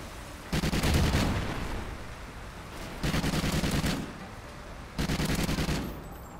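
Maverick assault rifle fire in Call of Duty Ghosts, with three loud automatic bursts of about a second each at a steady rapid rate, separated by quieter gaps of background game ambience.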